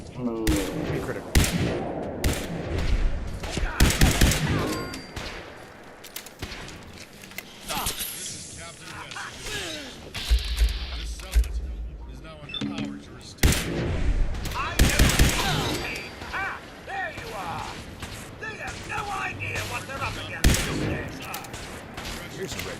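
Bursts of gunfire ring out in Fallout 4 with Sim Settlements 2: repeated sharp shots and rapid volleys, some close and loud, with a few heavier booms, while a person talks now and then.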